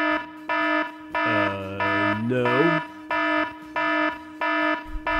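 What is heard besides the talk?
stolen phone alarm sounding in a video game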